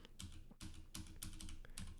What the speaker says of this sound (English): I'm gonna just keep typing through this.